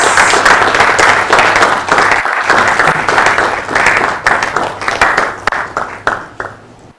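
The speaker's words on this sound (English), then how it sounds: "Please, a round of applause." Audience applause at the ISN Quality Assurance Summit 2022, a steady wash of many hands clapping that holds for several seconds, then thins into scattered claps and fades out.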